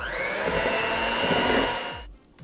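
Electric mixer whirring steadily as it beats lemon juice and powdered sugar into a glaze, a loud continuous motor whine with a faint pitch wobble, cutting off abruptly near the end.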